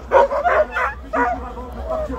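Sled dogs bark, yip and whine excitedly before the start of a race stage at Megève. The barks are close and come in bursts over a low murmur of voices.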